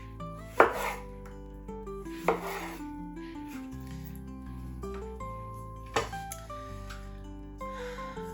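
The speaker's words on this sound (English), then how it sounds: "we've got all of those wedges completely cut up" Knife slicing potatoes into wedges on a cutting board, three or four sharp separate chops spread over a few seconds with a steady background hum and music.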